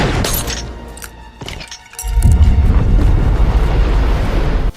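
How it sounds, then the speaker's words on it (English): A bullet shatters glass in a movie scene, a sharp crack and burst of breaking glass followed by a loud, sustained rumbling roar. "The bullet fired by Maya strayed through the glass and damaged the engine"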